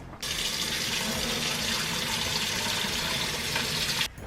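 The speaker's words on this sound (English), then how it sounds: "we're ready to strain these into the colander" Boiled potatoes and their water pour into a colander, a steady close rush of water that starts abruptly and runs unbroken for about four seconds before cutting off.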